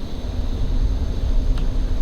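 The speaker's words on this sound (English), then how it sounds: "Sounds like an engine." A steady low engine rumble drones on throughout, fairly loud and continuous, with a faint brief hiss near the end.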